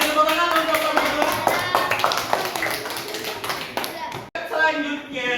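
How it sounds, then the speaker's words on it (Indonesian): Classroom students clapping for classmates, a lively ragged patter of hands with children's voices and chatter mixed in, briefly cutting out near the end before resuming. "Kasih tepuk tangan untuk teman-teman."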